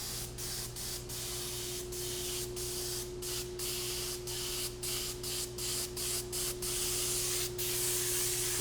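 A squirt bottle sprays candy paint with silver shine onto red and black doors in repeated short hissing bursts, about a dozen spritzes over a steady background hum, close and fairly loud.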